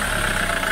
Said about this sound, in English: Like an engine again.